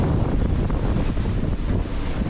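Strong wind of about 30 knots blows at sea from aboard a sailboat, a loud, constant roar of gusts buffeting the microphone over the rush of waves, with no voices.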